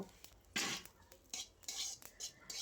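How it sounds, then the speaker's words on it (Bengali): Whole cumin seeds frying in a small amount in a cleaned kadai, with bursts of sizzling and stirring scrapes against the pan, coming in uneven spurts close by. "এবারে কড়াই পরিষ্কার করে অল্প গোটা জিরে ভেজে নেব"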